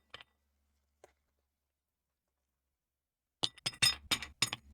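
Dice or ice clatter into a cocktail glass in a quick cluster of bright clinks after two faint isolated taps and near silence, close and crisp.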